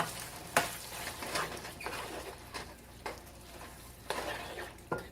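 Cooked rice being mixed with canned cream of celery and cream of mushroom soup for a casserole, a faint soft sizzle with several spaced scraping stirs of a spoon in the pot.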